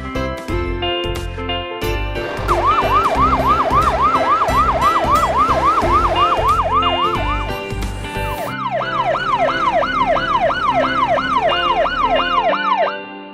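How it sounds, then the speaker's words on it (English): A fire department ladder truck sounds its siren, a loud, close wail that sweeps up and down in quick repeated cycles over a pulsing horn-like tone before shifting pattern partway through. "Ladder truck."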